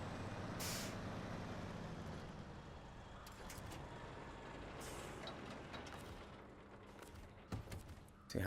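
A heavy truck's handbrake engages in the SnowRunner video game with a sharp burst of compressed-air hiss early on, followed by a steady low engine rumble and scattered mechanical clunks.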